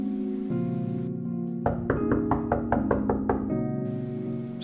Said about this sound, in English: I waited a couple of seconds and knocked again.